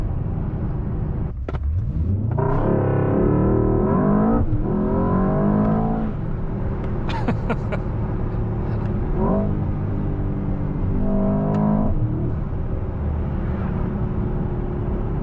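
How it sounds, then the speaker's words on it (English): A 2024 Mercedes-AMG S63 sedan's 800 hp V8 accelerates hard through several gears, each rising surge of revs cut by a shift, loud and close from inside the car. "The V8 AMG is one of the best engines in the world"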